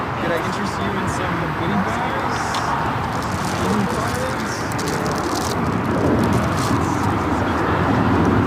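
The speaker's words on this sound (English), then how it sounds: "Our next takeoff is Alaska Airlines flight 1334 heading to Belize City, a 737-900ER." An Alaska Airlines Boeing 737-900ER takes off at LAX with a broad, steady jet engine roar heard from a distance, while someone talks over it.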